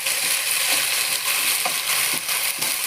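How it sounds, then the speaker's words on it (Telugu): Onions, green chillies and curry leaves frying in a pan for egg biryani, giving a steady, close sizzle with soft crackles and a few stirring scrapes, no voices. "తర్వాత ఆనియన్ వేసుకోవాలి. తర్వాత పచ్చిమిర్చి వేయాలి, వేపాకు వేయాలి. బాగా వేగాలండి ఇవి."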